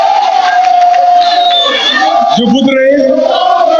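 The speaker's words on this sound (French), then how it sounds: "Je vous demande et de l'applaudir." Audience giving an ovation at a formal ceremony, a loud dense crowd roar of cheering that carries on throughout, with voices rising above it.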